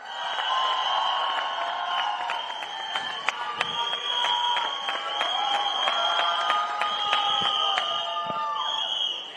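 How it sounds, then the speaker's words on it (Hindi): An audience at a Singham Again film event applauds loudly, with dense clapping and high cheering or whistling that runs steadily for several seconds. "एक बार जोरदार तालियां."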